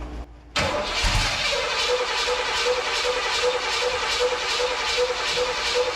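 A 1979 Corvette engine with a stuck throttle roars into a steady high-revving drone after a brief quiet start, holding loud and constant throughout.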